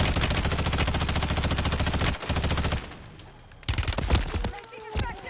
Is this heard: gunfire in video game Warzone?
yes